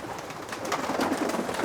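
Racing pigeons in a large loft coo softly and continuously, a low, steady murmur of several birds close by with no talk.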